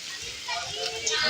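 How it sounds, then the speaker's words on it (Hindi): Floodwater flows like a river down a residential street and into houses, a continuous close rushing hiss, with people's voices mixed in. "गली में जैसे बिल्कुल नदियाँ की तरह मुनाजिर हो रहा है, ये पूरा जो है ना पानी घरों के अंदर जो है ना दाखिल हो रहा है"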